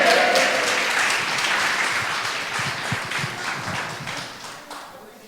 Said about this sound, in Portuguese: Mais uma salva de palmas para eles.